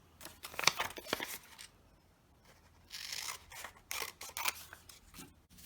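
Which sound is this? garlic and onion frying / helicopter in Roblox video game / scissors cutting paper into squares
scissors cutting paper into squares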